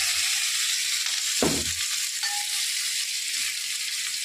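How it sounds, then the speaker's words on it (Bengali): Dried red chilies tempered in hot oil for an amla (Indian gooseberry) pickle, giving a steady broad hiss and sizzle throughout with one brief louder crackling burst, heard close without talk. "এখানে তেল গরম করে লঙ্কা ফোড়ন দিয়ে দিচ্ছি"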